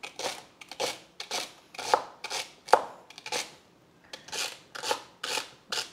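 A knife slices celery thin on a cutting board, making a steady series of about a dozen crisp, close chopping strokes with brief pauses and no talking.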